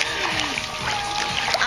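Water splashing in a pool during aqua aerobics, with repeated sloshing bursts and splatter, close and fairly loud, under a busy background.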